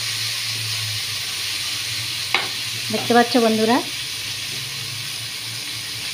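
Bitter gourd slices fry in oil in a home kitchen pan, a steady soft sizzle and hiss running throughout, while someone speaks briefly over it.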